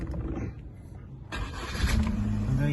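A Rover Streetwise hatchback is started with the key: a brief quiet crank, then the engine catches and settles into a steady idle close by, with no talk.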